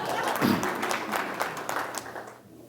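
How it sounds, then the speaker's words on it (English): Audience at a city schools retirement celebration applauding, a fairly faint, dense wash of clapping that carries on alone and tapers off at the end. "That's okay, keep on applauding."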